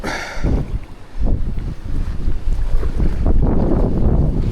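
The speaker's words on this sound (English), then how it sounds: "Very hard fishing with this strong upstream wind." Strong upstream wind on a trout river during fly fishing, buffeting the microphone in loud, close gusts that rise and fall continuously with a rumbling, rushing texture.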